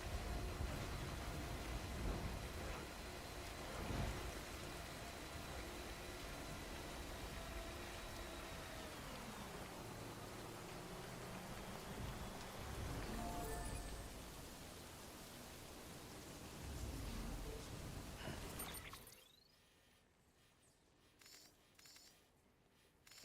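Timefall rain in Death Stranding falls as a steady, dense hiss for about twenty seconds, swelling and fading slightly, then cuts off into near silence.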